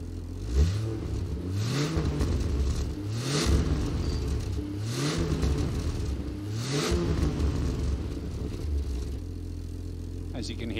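A car with a Barra engine and 4-inch exhaust revs up and falls back several times in a steady rhythm, with a deep, muted exhaust note, its VAREX muffler valve closed, that stays fairly subdued and close.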